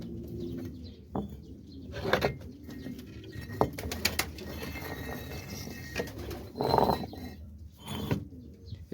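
Pigeons on a pigeon farm coo softly in low, repeated murmurs, with occasional wing flaps and small mechanical knocks close by.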